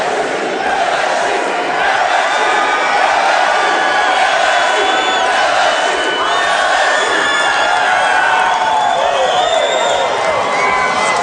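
A large political rally crowd in Baton Rouge, Louisiana roars with sustained cheering, whoops and shouting, loud and unbroken throughout with no lull.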